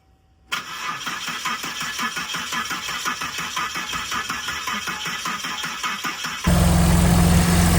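After a quiet moment, a manual Volvo 960 with a freshly installed high-HP camshaft cranks with rapid rhythmic chugging, then catches and settles into a loud, steady idle close by.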